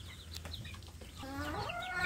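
Brooding village hens cluck softly and sporadically while being fed, close by, with one rising drawn-out call near the end over low background noise.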